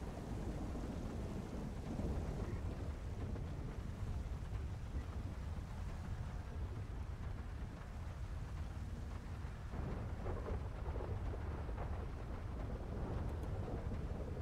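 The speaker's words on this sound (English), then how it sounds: "Thunderstorm is really rolling here." Thunderstorm in GTA5 with heavy steady rain and low rolling thunder rumbling underneath, a continuous dense roar that dips slightly midway, with no voices.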